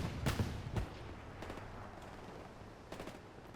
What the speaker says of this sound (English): This is an allied strafing run.